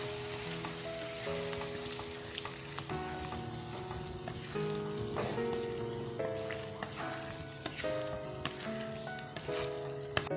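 A lemon pickle mixture with vinegar, made from vadukapuli lemons, bubbles and sizzles in a pan in a dense, steady crackle, with occasional stirring clinks over a continuous hiss and no talking.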